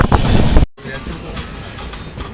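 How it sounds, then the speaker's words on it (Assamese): A train rumbles past at Dhekiajuli, loud and close with a rolling clatter of wheels, then briefly cut off before the steady rail noise continues. "এতিয়া ট্ৰেইন বেলেগ এখন ট্ৰেইন আহি আছে"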